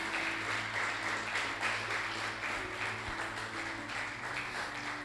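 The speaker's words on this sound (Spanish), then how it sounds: "con este fuerte aplauso queremos honrarte" A church congregation applauding loudly during a Sunday morning service, a steady, dense wash of clapping from many people that holds without a break.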